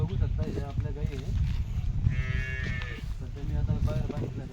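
Cows on a farm moo loudly and close by in long, drawn-out calls that overlap almost continuously, with a higher bleating cry in the middle, over low rustling farmyard noise.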